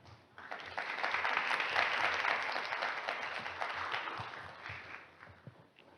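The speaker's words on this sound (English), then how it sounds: "Please give a big round of applause for Professor Mamoru again" Audience applause fills a hall at the end of an invited talk at a science museum symposium, a steady wash of clapping that swells over the first two seconds, holds, then thins out with a few scattered claps.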